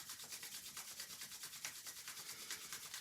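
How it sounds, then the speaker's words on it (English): Palms rubbing together briskly during a yoga session, a steady rapid back-and-forth swishing of dry skin, soft and close, continuing without pause and with no voices. "Rub the palms nice and briskly."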